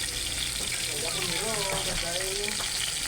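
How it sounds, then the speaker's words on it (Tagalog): Steady crackling sizzle of fish frying in hot oil, continuous and close, with a faint voice murmuring underneath partway through. "Yan yung ating pritong isda guys."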